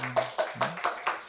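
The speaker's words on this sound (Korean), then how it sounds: "노래 끝나면 이렇게 박수를 치는 거야" Clapping after a church song comes in a handful of distinct, evenly spaced claps, about five strong strikes in just over a second, with a brief voice fragment near the start.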